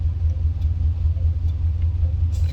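An old truck engine idles with a slight misfire and its check engine light on, a steady close low rumble with faint irregular unevenness and no talking.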